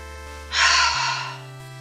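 A single long, breathy yawn rises and fades over soft, sustained game music.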